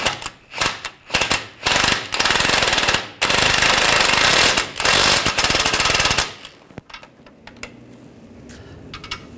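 Impact wrench bursts snugging a front lower ball joint nut on a 2009-2017 Volkswagen Tiguan, several loud rattling bursts of about half a second to two seconds each with short pauses, then quieter clicks.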